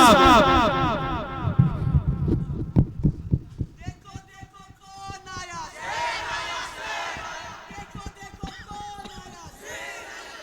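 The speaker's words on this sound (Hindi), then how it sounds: "नारे तकबीर, नारे तकबीर, जनाबे असद आज़मी साहब" Crowd at a Seerat-un-Nabi jalsa and naatiya mushaira in Ibrahimabad, Fatehpur, roaring back in unison to a Naara-e-Takbeer call, loud repeated shouts that give way to a busier, mixed hall ambience.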